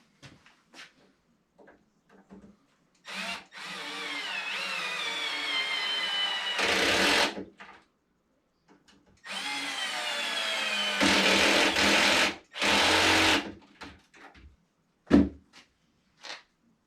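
A clutch drill drives screws for drawer slides onto vanity rails in bursts of whirring motor, a couple of seconds each, broken by short gaps filled with handling clicks and knocks, all close by with no talk.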